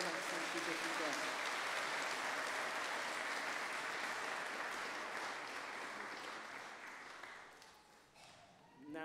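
Applause from a church congregation rolls on as a broad, steady wash of many hands, then gradually thins and fades toward the end, with some speech blended faintly underneath.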